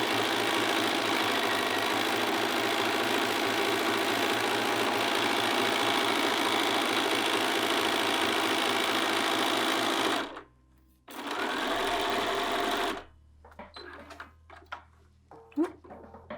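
Sewing machine running continuously while stitching a final side seam on a garment, steady close whirring for about ten seconds, a brief pause, then another short burst before stopping.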